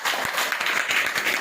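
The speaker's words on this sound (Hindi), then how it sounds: "अपने लिए एक जोरदार ताली बजाइए" An audience at a motivational speech claps together in a dense, steady burst of applause, fairly close and continuous, with some faint voices mixed in.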